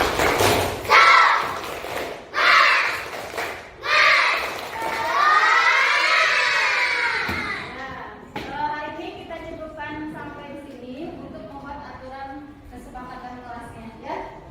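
Schoolchildren in a classroom clapping a rhythmic cheer chant, with several loud clap bursts followed by excited group voices chanting and shouting together, close and lively.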